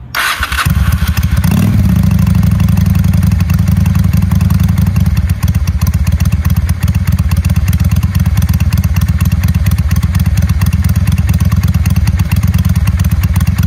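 A 1996 Honda Shadow VLX600 bobber motorcycle starts up and settles into a steady, low, fairly quiet rumbling idle with a rapid, even exhaust pulse, close by and continuous throughout.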